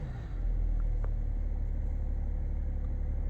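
A high-mileage BMW F10 with an N57N diesel engine, throttle floored but not revving freely, gives a deep, steady, loud rumbling drone that swells early and then holds flat without climbing, no speech.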